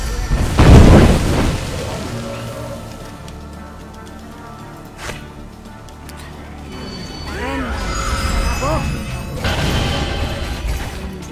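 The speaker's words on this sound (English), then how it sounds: "let's go whole hog with it and just start cranking out the empowered fire bursts." Empowered fire burst spells explode in the video game Mask of the Betrayer: a loud booming blast opens, then rumbling, crackling effects and ringing tones follow amid game music.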